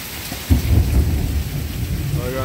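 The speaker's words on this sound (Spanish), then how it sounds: "oigan los truenos, mis chatitos. Está lloviendo feo aquí." A low rumble of thunder rolls in over the steady patter of heavy rain, booming briefly then fading beneath the downpour.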